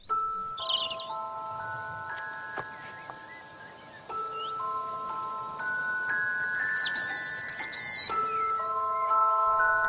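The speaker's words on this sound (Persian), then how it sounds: "خب پرنده های شکار اینجا نمیشنوی؟" Bird calls sound in a hunting area, with brief high chirps and trills above steady tonal chiming notes that step up and down throughout.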